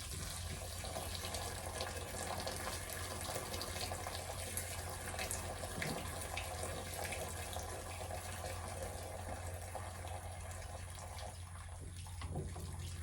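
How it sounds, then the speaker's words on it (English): A Belgian draft horse colt urinates in a long, steady, splashing stream at a farm, a continuous liquid rush lasting well over ten seconds with no talk. "And he's gonna go pee now."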